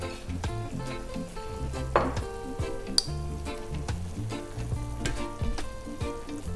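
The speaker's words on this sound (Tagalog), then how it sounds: "Ngayon po, i-add na po natin yung ating piniritong tokwa." Fried tofu goes into a pan of sizzling vegetables for Filipino tofu noodles, a steady hiss of frying with scattered clinks and scrapes of a utensil stirring against the pan.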